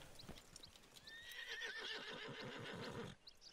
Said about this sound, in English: That a horse. That a horsey.